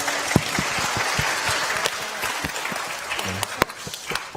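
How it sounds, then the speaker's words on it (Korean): Congregation applause during a Korean church evening service, a dense burst of hand claps from a room of people that stays steady for several seconds before thinning out, with a few sharp individual claps standing out near the end. "그럼 탄성 좀 지으시고 박수 한번 치십시오."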